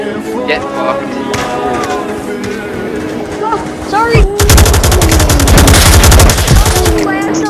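Rapid automatic gunfire from the VR shooter Onward erupts loud and close in a sustained burst lasting about three seconds, following a stretch of busy in-game sounds.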